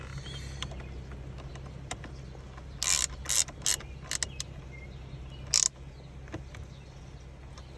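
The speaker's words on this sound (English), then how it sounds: "when I get my ratchet in there, you don't have to go too crazy to tighten it." Ratchet tightening a bolt while paddle shifters are installed in an Infiniti G37, heard as a few quick clicking bursts up close against a quiet low hum.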